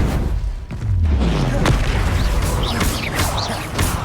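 Spell-casting effects from Hogwarts Legacy, with Incendio fire and Expelliarmus disarming bursts giving a run of loud booming blasts and sharp pops over dense game sound, no voice heard.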